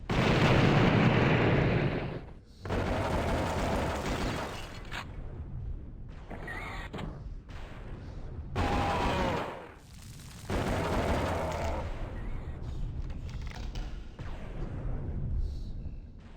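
Dual pistols fire from a Guns Akimbo power-up in the Noob Blood video game, with dense, rapid bursts of gunfire and explosive pops running almost continuously and separated by a few short breaks.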